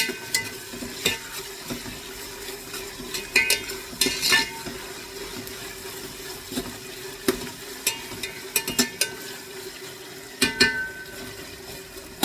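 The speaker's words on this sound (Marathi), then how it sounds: "हे छान असं परतून घ्यायचं" Biryani paste for instant prawn biryani being sautéed in a pan, a soft steady sizzle broken by irregular clinks and scrapes of a spoon stirring against the metal, close and fairly quiet.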